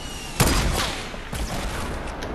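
Gunfire in the Fortnite video game, a burst of rapid shots with a sharp onset followed by a second volley a second later, loud and dense over a constant roaring game background.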